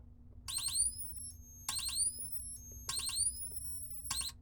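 A vintage Russian strobe beacon firing in a regular cycle, each burst a sharp electronic chirp that sweeps upward then settles into a thin whine, repeating about every 1.2 seconds over a low steady hum.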